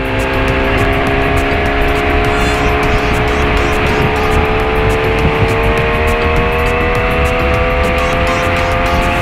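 A BMW S1000RR motorcycle ridden at speed on a road trip from Bangkok to Chachoengsao, giving a loud, steady engine drone with sustained high tones and road and wind noise throughout, no talk.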